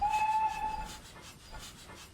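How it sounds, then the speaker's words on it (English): A steam locomotive in a train simulator game gives a short, clear whistle lasting under a second, followed by faint rhythmic chuffing at a low level. "the V key gives you short whistles"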